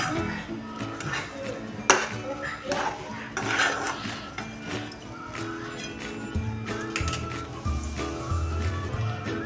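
Sweet jaggery semolina sanja stirred from the bottom of a pan, with repeated clattering scrapes and metallic clinks of the spoon against the pan, fairly close and uneven in rhythm.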